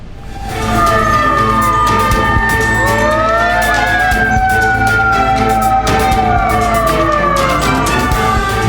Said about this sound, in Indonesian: 5 mobil pemadam kebakaran dikerahkan ke lokasi untuk memadamkan api